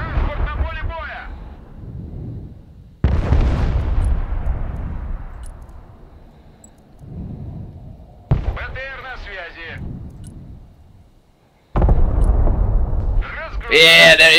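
Bombs exploding in the military strategy game Broken Arrow, three loud heavy booms with long rumbling decays, spread apart between stretches of someone talking.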